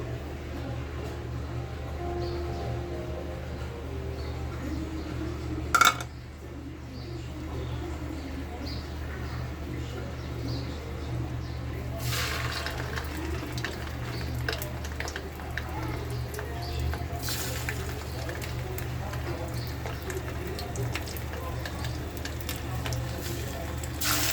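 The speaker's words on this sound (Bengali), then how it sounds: "মশলাটা ভালো করে মাখিয়ে কেড়ে নিয়ে ভেজে নেব" Spiced bread slices frying in a pan for shahi tukra give a steady, dense sizzle throughout, with one sharp clatter partway through and faint background voices.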